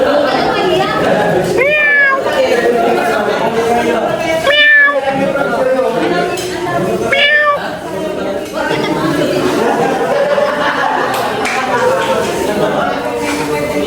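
A cat meows three times, each call rising and falling, spaced a few seconds apart, while people chat continuously nearby at a dinner gathering.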